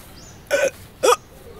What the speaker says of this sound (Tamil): விக்கல் அடிக்குது பத்தியா?